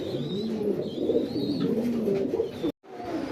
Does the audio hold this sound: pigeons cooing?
yes